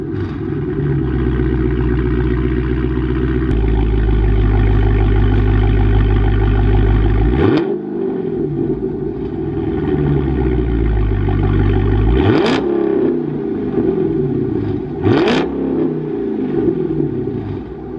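A 2018 Dodge Charger Scat Pack fitted with 5-inch Carven exhaust tips runs loud and close, its deep idle rumble broken by three sharp revs that swell and fall back to idle.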